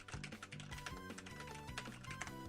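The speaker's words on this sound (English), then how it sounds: "Hear my clickety-clacky of my keyboard?" Rapid clicking of someone typing on a computer keyboard, close and steady with irregular bursts of keystrokes, over game music with a low repeating tone during a Pokémon Fire Red Omega Nuzlocke livestream.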